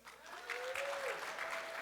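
Steady applause from a live talk show audience, sustained clapping filling the short stretch with a dense, even texture and a faint tone running underneath.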